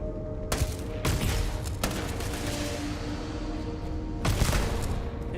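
Gunfire in a video game, with a shotgun among the weapons: several sharp shots and bursts crack through a dense, continuous din of battle, close and loud, with no talk.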